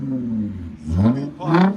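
A straight-piped 2012 Lexus IS 250 with a 2.5L V6, two quick throttle blips that rise in pitch, each ending in a sharp exhaust burble, heard up close.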